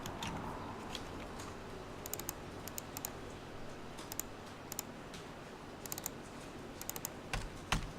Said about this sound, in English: that's a lot of typing, but it's worth it